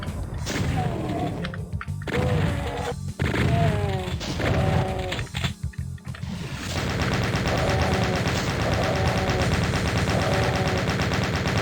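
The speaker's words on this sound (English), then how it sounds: "Forgot there was a chain gunner there." A chaingunner firing in Doom, with rapid bursts of machine-gun fire and heavy impacts, then a sustained rattle of shots mixed with growling monster cries.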